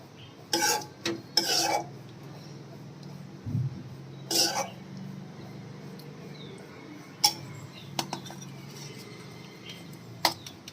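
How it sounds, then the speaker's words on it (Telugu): Pulihora tamarind rice mixed by hand or spoon for a child's lunch box, a few soft scraping stirs and rubs at a quiet home kitchen pace, with long pauses of low background hiss between. "పులిహోర వేసి కలిపేస్తున్నాను"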